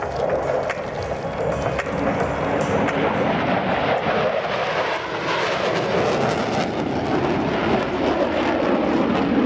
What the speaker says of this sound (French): les deux Mirage 2000 vont passer de gauche à droite